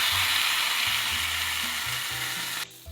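Red meat frying in a pan for a vegetable stir fry, a steady loud sizzle running throughout with low stirring scrapes beneath, cutting off abruptly near the end.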